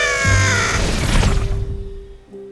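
A robot crow in a cartoon gives a single loud, harsh caw that fades into a low electronic hum.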